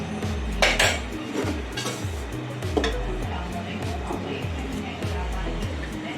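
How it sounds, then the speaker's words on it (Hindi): A metal spoon scrapes and clinks rhythmically against a pot while semolina halwa is stirred and sugar syrup is poured in, with steady repeated strokes under a low background hum. "थोड़ा थोड़ा करके ये डलेगा और यहाँ चमचा चलाते जाएंगे"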